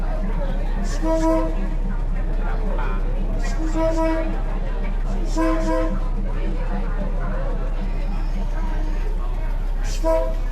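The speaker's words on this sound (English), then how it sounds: "So this is the view of the train passing through the market from the front of the train" A train rolls slowly through Thailand's Maeklong Railway Market, heard from the front of the train, with a steady low rumble and several short horn toots repeating, while people talk over it.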